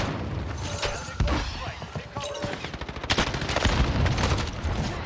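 A Grau rifle firing in a video game produces loud, close bursts of rapid automatic gunfire that run almost continuously, heavy and dense throughout.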